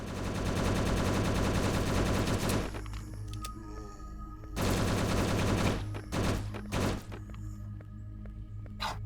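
Rapid bursts of automatic gunfire in a zombie survival twin-stick shooter game, loud dense volleys broken by short pauses and scattered single shots and thuds, with no talk.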